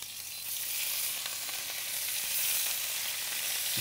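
Ground beef sizzles and fries in a hot pan on a TV cooking show, a steady crackling hiss that swells slightly as the meat is stirred, close and continuous without talk.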